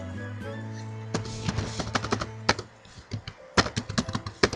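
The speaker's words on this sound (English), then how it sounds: "let me type something and start with your chapter" Keys tapped on a computer keyboard in an irregular burst of clicks, close and fairly loud, following a quieter start with a steady low hum in the background.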